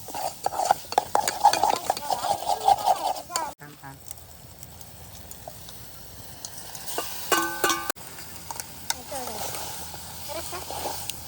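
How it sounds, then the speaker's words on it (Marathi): A spoon stirs a village-style chicken masala rassa seasoned with homemade red chilli powder in a pot, with rapid clattering scrapes against the metal at first, then softer stirring and faint sizzling, as someone talks over it. "त्यानंतर मसाला एकदम मिक्स करून घेऊया"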